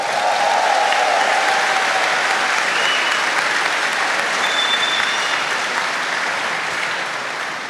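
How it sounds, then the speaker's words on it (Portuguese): Congregation at a church sermon applauding in a sustained, loud, even wash of clapping that carries on without a break. "Pode aplaudir."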